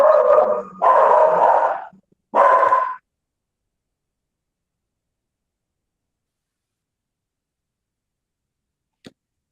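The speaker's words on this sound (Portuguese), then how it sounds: "eu já fiz meu cachorro ali parar" Several loud barks from a dog nearby, three bursts in the first three seconds, then silence apart from a faint tick near the end.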